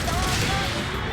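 Dense, continuous burst of weapon fire and explosions in the Gundam Battle Operation 2 mecha combat game, loud and overlapping, with a voice partly mixed in.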